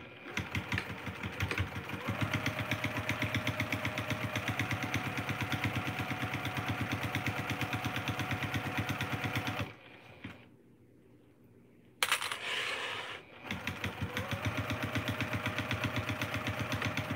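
A sewing machine stitching a fabric stair step basket runs in a steady rapid mechanical chatter, pauses for a couple of seconds, then resumes running continuously, fairly close and clear with no voices.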